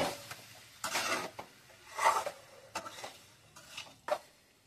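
Flour pasta being stirred and mixed in a pot: a spoon scrapes and clinks against the pot in irregular strokes, quiet and close, with no talk.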